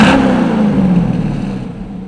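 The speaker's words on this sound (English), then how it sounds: "can't talk about exhaust without giving y'all a nice little startup." A C6 Corvette V8 fitted with a Borla stainless exhaust rumbles loud and close, with a brief rising rev at the start that settles into a steady, throaty idle.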